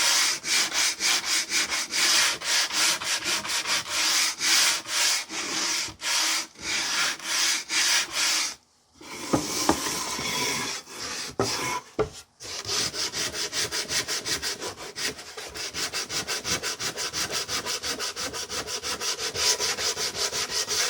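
A wooden jewelry box is sanded by hand with loud, close, steady rhythmic rubbing strokes that pause briefly twice before continuing.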